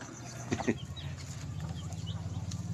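Rhode Island Red chickens cluck softly nearby in a backyard flock, with a couple of sharper squawks early on and a low continuous cluttered chatter under them.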